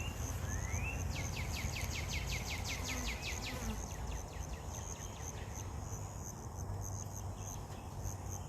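Honey bees on hive frames make a steady, dense buzzing hum throughout, with fast insect chirps standing out briefly near the start.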